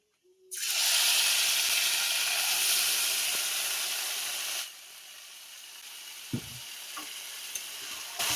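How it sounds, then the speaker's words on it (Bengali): Fish dropped into hot oil with nigella seeds in a wok sets off a loud, steady sizzle that suddenly drops to a quieter crackle, with a few stirring clinks near the end. "মাছটা এবার কড়ার মধ্যে দিয়ে দেবো।"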